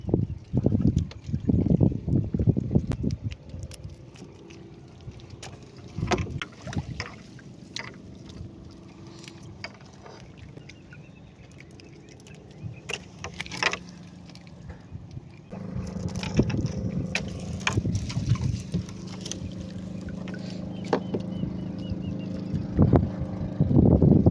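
A boat passes on the water, with low engine rumble and splashing that swell, ease off, then build again; no voices.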